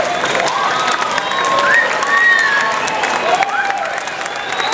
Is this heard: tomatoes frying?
no